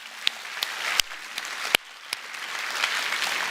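Church congregation applause after worship music, a soft, spread-out patter of clapping with a few sharp louder claps standing out near the start, fading to a quieter wash.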